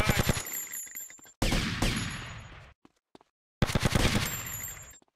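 Rapid bursts of automatic gunfire during a police station shootout in Grand Theft Auto, loud and close, in two long volleys separated by a short silent gap.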